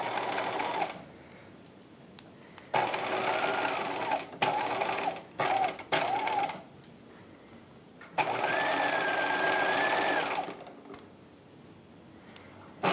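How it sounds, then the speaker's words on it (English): A sewing machine stitches the bodice of a 1950s halter dress, running in several close, even bursts of varying length separated by short pauses, with a faint whine rising during the longer runs. "Start stitching from the very top."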